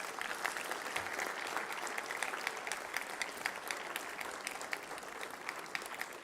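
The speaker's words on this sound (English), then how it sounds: "Can we have a huge round of applause?" An audience at an MBA and M.Tech graduation ceremony breaks into sustained applause, dense steady clapping from a large crowd that holds evenly for several seconds with no voices over it.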